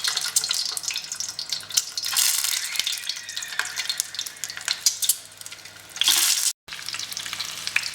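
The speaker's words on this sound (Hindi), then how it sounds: "इसको बढ़िया फ्राई करेंगे, क्रिस्पी कर लेंगे अंडों को" Boiled eggs fry in hot oil with a steady, bright sizzle and crackle up close, swelling louder at moments and cutting out briefly near the end.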